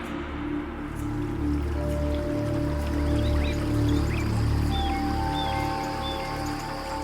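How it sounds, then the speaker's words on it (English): Water rushing steadily with scattered drips and trickles all around, a continuous full wash of flowing water close by with no voices. "The first thing he heard was the sound of water, rushing, raining, dripping all around him."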